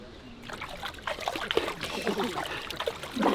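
A swimmer dunks their face into a pool, and the water splashes and trickles close by in a short burst of sloshing that ends with a final splash.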